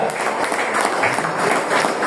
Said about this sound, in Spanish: Denle palmas al Señor, iglesia.